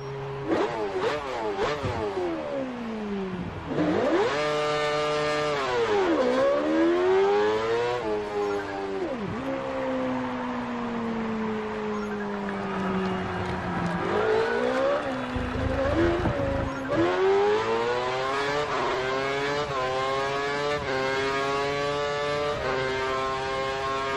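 Formula 1 car in the F1 2013 racing game accelerating hard, its high engine whine climbing through repeated gear changes in rising and falling sweeps, loud and continuous throughout.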